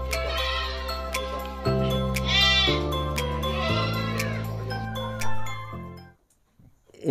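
Goats bleat loudly and close by in a run of long, wavering calls that overlap one another, then fall silent near the end.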